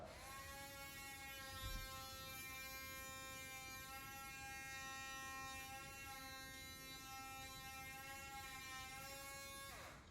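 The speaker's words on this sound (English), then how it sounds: "if you're doing this with an electric toothbrush, the only difference in the technique is that you're just holding the brush in place" An electric toothbrush buzzes steadily against teeth with braces, a continuous high-pitched electric hum held in place for ten seconds, close and uninterrupted.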